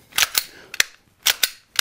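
Six sharp snapping shots from an airsoft pistol, fired in quick pairs with short gaps, crisp and close with nothing else heard.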